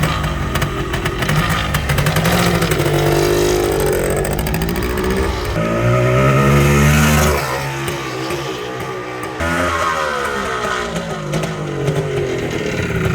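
Yamaha DT400 motorcycle ridden nearby, its engine revving up and down through rising and falling pitches, loud and close with steady wind and road noise.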